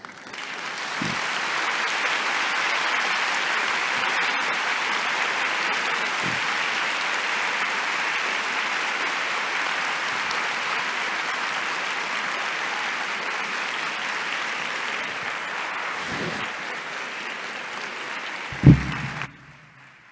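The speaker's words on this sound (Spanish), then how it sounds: "ese aplauso y ese reconocimiento sin duda merecido para el maestro Francesco Tonucci" Long, sustained audience applause for educator Francesco Tonucci after his conference talk, dense steady clapping that gradually thins, with a few low thumps near the end before fading out.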